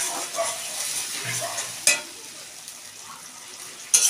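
Chicken pieces are stir-fried in a pan, a close continuous sizzle broken by two sharp scraping clacks of the spatula against the metal.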